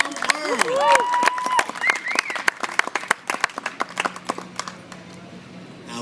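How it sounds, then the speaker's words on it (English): An audience at a Navajo dance performance bursts into loud, sustained applause with crisp individual claps, plus a brief whistle-like cry at the start, gradually thinning out toward the end. "Let's give him a great big round of applause"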